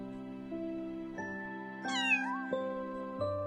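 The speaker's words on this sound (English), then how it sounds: ""Meow," answered the kitten again." A kitten meows in a children's bedtime story, a short, clear mew standing out over a soft sustained musical backing.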